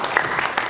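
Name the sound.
audience applause for a mentor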